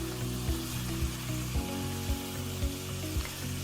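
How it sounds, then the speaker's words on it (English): Food, beef for a stew, fries in a pan with a steady loud sizzle, while faint regular knocks and scrapes from stirring repeat about every half second underneath, with no talking. "After a good 5 to 10 minutes of frying, start seasoning your food."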